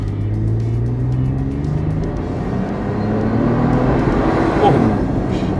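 A supercharged fifth-generation Toyota 4Runner accelerates hard from a standstill, with a loud steady engine drone that rises in pitch through the gears, heard from inside the cabin.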